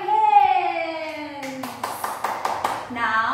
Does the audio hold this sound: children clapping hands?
yes